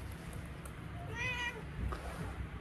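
A house cat named Mingming gives a single short, faint meow against steady background hum in a room.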